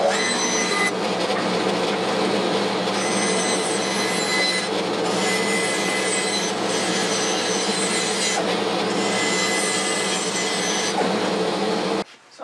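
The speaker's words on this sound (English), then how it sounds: "So I'm going to rough turn a circle on here." A 3/4-inch oak board is rough-turned into a circle on a wood lathe, giving a loud, steady, grinding whir of the cutting tool that runs unbroken for about twelve seconds and then cuts off abruptly.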